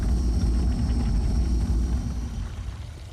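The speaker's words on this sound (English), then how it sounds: "Because I'm gunning the engines." Spaceship engines in Elite Dangerous rumble as they are gunned, a deep, heavy roar with a droning whine above it, loud and steady before easing slightly toward the end.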